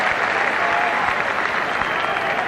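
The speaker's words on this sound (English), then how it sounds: "Applause breaks out again for Chris O'Brien." Crowd at a 1991 Rugby World Cup match between New Zealand and the USA breaks into applause, a loud continuous wash of clapping and crowd noise filling the stadium.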